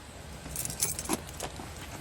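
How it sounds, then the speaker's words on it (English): Car keys jangling for a 1975 Chevrolet Chevelle Laguna Type S-3, a brief close metallic rattle in a few quick bursts over a quiet background. "bring those keys with you"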